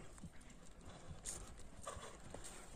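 A horse runs past with quick, rhythmic clip-clop hoofbeats at moderate distance over a short stretch, with a faint whinny-like sound and no clear talking.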